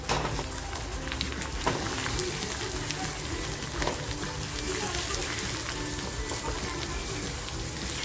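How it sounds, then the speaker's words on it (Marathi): Ground masala with turmeric fries in oil in a pan for a mutton thali, a dense, even crackle like light rain on a surface that runs continuously at moderate loudness from start to finish. "तर बघा आपला मसाला असा छान फ्राय होतोय"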